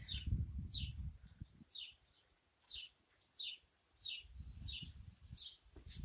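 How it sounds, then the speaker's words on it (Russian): A small songbird sings outdoors on a windy day, short bright chirps repeating every half second or so, moderately near, while wind rumbles and a person talks quietly at the start and end. "Вон птичка поет."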